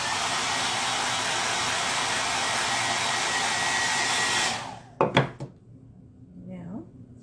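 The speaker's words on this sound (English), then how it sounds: "One more blow dry." Hair dryer blowing steadily and loudly up close for several seconds while painted wooden Easter bunny cutouts are dried, then cutting off, followed by a few sharp knocks and clatters.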